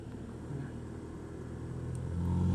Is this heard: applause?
no